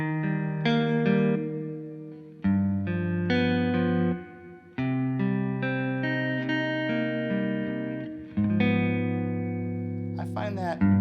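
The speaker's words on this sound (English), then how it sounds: "there's the holograms reverb." Electric guitar played through a Hologram reverb pedal on a pedalboard, slow sustained chords ringing out with a lush, shimmering reverb tail that swells and lingers between strums.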